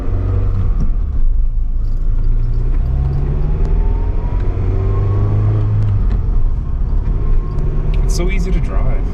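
Steady, loud engine and road rumble fill a 2005-2010 Scion tC with aftermarket shifter bushings and a custom short shifter as it is driven, with a brief rattle near the end and no talk.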